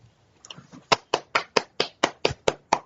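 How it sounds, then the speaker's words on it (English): A few soft taps lead into about nine evenly spaced hand claps, crisp and close, with no talking. "Round of applause."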